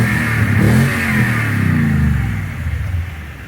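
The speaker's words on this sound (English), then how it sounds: "That's stock factory badass sounding exhaust system" A 2021 Tundra TRD Pro pickup's stock factory exhaust revs up, a deep throaty rumble that swells and then settles back to a burbling idle, close by.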